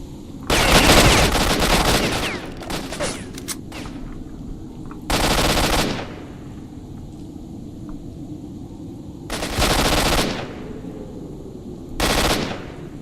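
Bursts of machine-gun fire in the shooter STALKER: Shadow of Chernobyl, a fast-firing, low-recoil automatic weapon, loud and close in four separate volleys of roughly one to two seconds, with quieter gaps between them and no talking.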